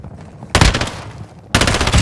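Two loud, sharp bursts of rapid automatic gunfire in Call of Duty DMZ on Ashika Island, close and punchy, separated by about a second of quieter game ambience.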